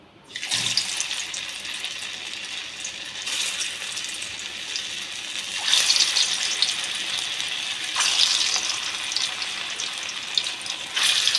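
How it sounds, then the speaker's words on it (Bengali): Soybean muitha dumplings fry one after another in hot oil, giving a steady, close hiss with several louder bursts of sizzling as each dumpling goes in. "এবারে আমি মুইঠাগুলো এক এক করে ভেজে নেব।"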